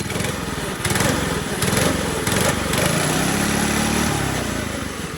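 A Monster Moto 80 minibike with a swapped-in Predator 212 engine runs close by, its small single-cylinder motor puttering steadily with brief throttle blips and no voices.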